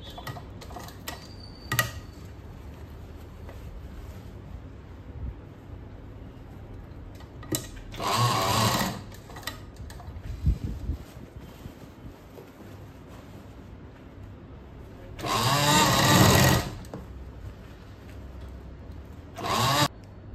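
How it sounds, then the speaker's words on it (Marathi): Sewing machine stitching a cloth market shopping bag, with two loud bursts of fast rhythmic stitching, one of about a second and one of a couple of seconds, separated by quieter clicks and handling noise. "मग सुई खाली टाकायची आहे आणि फूट उचलायचं आहे आणि मग ह्याला व्यवस्थित अशी शिलाई करून घ्यायची"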